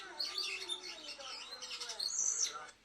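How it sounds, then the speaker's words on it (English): Robin song from a sound library: bright, rapid chirps and warbling phrases running continuously, close and clear, with a louder high trill near the end and no other sound beneath. "It's a robin."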